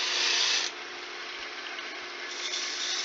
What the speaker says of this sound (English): we'll take our spindle gouge and we pull cut